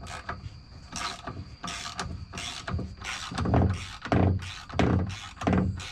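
Solid aftermarket differential bushing for a Toyota IS300 drift car sliding into its mount, with repeated creaking, ratcheting mechanical strokes that grow louder toward the end, close up and with no talking.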